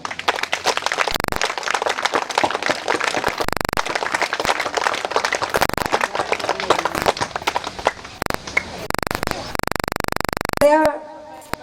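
An audience claps for Bharatbhai at a spiritual gathering, a dense, loud burst of applause with choppy breaks that fades out near the end as speech returns.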